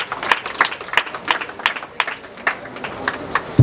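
A church congregation at a funeral service claps in acclaim of the Lord, with steady rhythmic applause of moderate loudness that continues evenly without talk.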